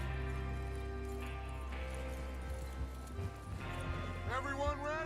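Horses in Red Dead Redemption 2 clop along with steady hoofbeats under a droning music bed, and a whinny comes near the end. Voices talk over the hooves.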